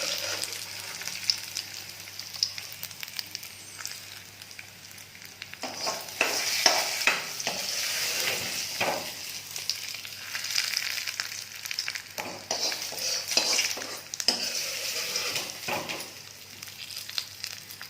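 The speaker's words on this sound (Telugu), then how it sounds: "ఈ పోపుని అందులోకి యాడ్ చేసుకోవాలి." Hot tempering sizzles as it is poured into cooked lentils for a tomato and dried red chilli dal, followed by spoon stirring with soft scraping bursts and a crackling fry that is moderately quiet and close, with no talking.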